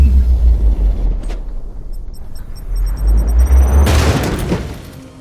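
A grenade explodes in the turn-based game Warhammer 40k Chaos Gate: Daemonhunters. A heavy rumbling boom swells over a continuous low drone, with a louder burst near the end.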